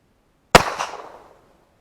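A single sharp rat shot shotshell blast fired at a wiener, close and loud, with a short fading tail and no talking.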